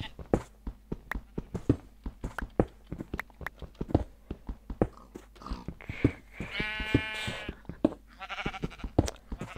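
Sheep bleating in a survival video game, with two wavering bleats near the end amid a fast series of sharp, close clicking and crunching taps.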